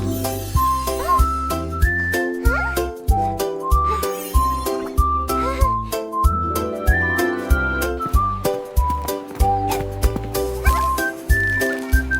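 A melodic whistled tune plays over a bouncy, jingly musical backing in an energetic children's song, with distinct rising and falling notes in a steady rhythm.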